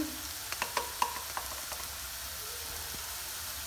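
Ginger garlic paste fries with browned onions for bottle gourd momo filling, a steady low sizzle under a few quick clinks and scrapes of the spoon against the pan.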